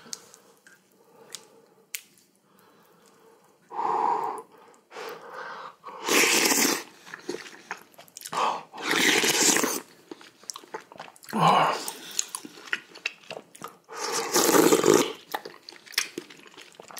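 Someone eats hot seaweed soup with rice cake balls, white rice and kimchi, producing close, loud bursts of slurping, biting and chewing separated by quieter pauses.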